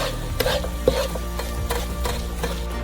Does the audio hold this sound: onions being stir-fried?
yes